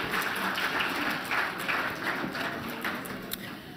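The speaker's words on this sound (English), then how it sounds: "Give yourselves a round of applause there." An audience at a panel discussion on hunger and nutrition gives itself a round of applause, a steady wash of clapping of even loudness throughout.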